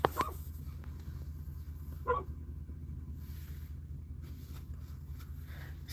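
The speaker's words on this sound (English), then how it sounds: "This lady just really park her car and leave her dog in the car to bark." A dog shut inside a parked car gives a couple of short muffled barks, one at the start and another about two seconds later, over a low steady background rumble.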